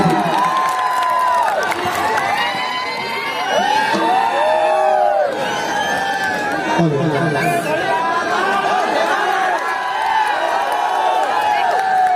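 A crowd at a Ruku Suna orchestra show in Ladabahara, Chhattisgarh, cheers, whoops and chatters loudly and continuously, with scattered applause and shouting voices mixed into a dense, close wall of noise.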